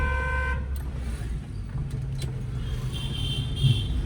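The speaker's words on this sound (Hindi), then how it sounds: "लॉन्ग हॉर्न प्रेस करो" A car horn blares in a long press at the start during a driving lesson, then an engine hum and road traffic noise carry on, with a faint high tone near the end.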